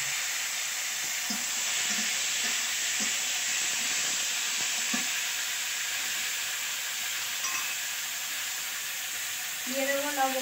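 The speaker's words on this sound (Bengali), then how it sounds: "এবার টমেটোটা ভালো করে ভেজে নেব।" Tomatoes frying in oil with cumin and bay leaf give a steady broadband sizzle throughout, with faint stirring clinks and brief low tones near the end.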